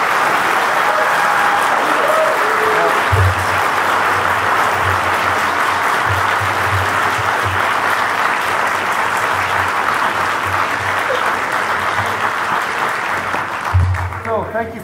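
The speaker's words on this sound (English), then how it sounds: "So I'd like to give the band another hand for all the work." A school audience at a winter band concert at Gould Academy claps in sustained, dense applause for the band. It stays loud throughout, with a few low thumps, and fades slightly near the end.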